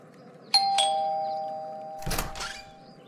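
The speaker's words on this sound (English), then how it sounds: "let's ring the doorbell." Animated doorbell chime, two bright ding-dong tones with a lingering ring, followed by a short rustling knock-like burst, fairly quiet and heard alone.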